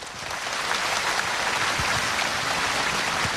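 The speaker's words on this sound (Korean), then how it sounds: "박수로 맞아주시기 바랍니다." An audience at a 1994 outdoor televised singing contest in Geumsan County claps to welcome six contestants, a dense sustained applause that swells in and holds steady without talk.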